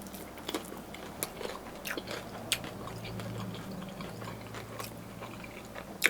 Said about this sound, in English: I like the texture and the crunch on the actual dumpling